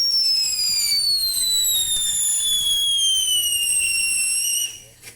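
Whistling fireworks at a 2026 celebration shriek with several loud, slowly falling tones that overlap for about five seconds, then fade out with a faint pop at the end.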